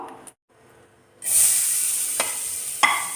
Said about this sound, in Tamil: ஸோ தேங்காய் வந்து வறுத்துக்கலாம்